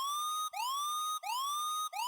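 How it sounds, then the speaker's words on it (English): A synthetic siren sample in a drum and bass track wails in rising sweeps, repeating about three times in quick succession, loud and bright with no voices. "And the siren sample sneaks in."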